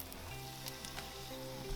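A Roti John omelette sandwich fries in a pan, giving a steady, close sizzle with a few faint clinks, no voices.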